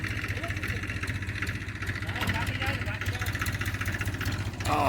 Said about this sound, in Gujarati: બધું ટ્રેક્ટર છે લગાડી દીધો હમણાં